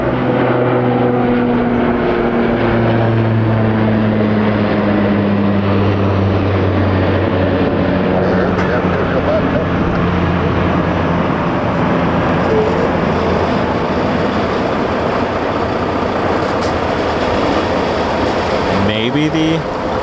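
A Dash 8 turboprop banks and flies past at Toronto Pearson, its loud propeller drone carrying distinct tones that glide downward as it passes close by, with a clattering rush near the end and no talk.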